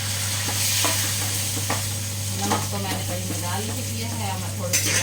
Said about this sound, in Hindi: कड़ी पत्ता, अदरक और काली मिर्च, ये सब डाल के हम करेंगे इसको फ्राई